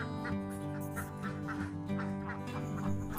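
Laying ducks on a large-scale egg duck farm, a dense chorus of many quacks overlapping in uneven bursts, loud and close over a steady background hum.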